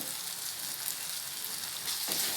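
Brinjal and ground spice powder fry in hot oil for a brinjal varuval, a steady close sizzle filling the whole stretch alone, swelling slightly louder near the end as the pan is stirred.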